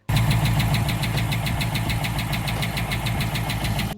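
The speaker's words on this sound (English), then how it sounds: "we could hear almost the whole engine ticking" A 5.7 HEMI V8 in a high-mileage Dodge Durango idles with a fast, even mechanical ticking from across the whole engine, close and loud throughout over a steady engine drone.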